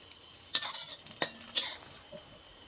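Eggs being stirred and scrambled in a pan for a Thai stir-fried instant noodle dish, heard as a few sharp utensil clinks and scrapes against the pan, with faint sizzling between them.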